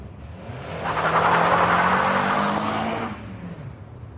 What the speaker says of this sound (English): Look at this bloody traffic, it's ridiculous.